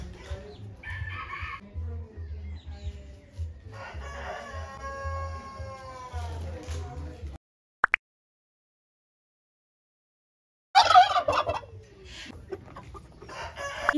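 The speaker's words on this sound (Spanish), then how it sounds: "Pavos reales." Peacocks call at a rice-themed national park: loud, nasal wailing cries with rising, bending tones, one short burst, then a silent gap before another harsh, close call.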